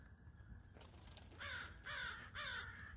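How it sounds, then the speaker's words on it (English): Crows cawing outdoors in a few loud, harsh calls that come in quick succession after a quiet start, with no talking. "I scared all the crows."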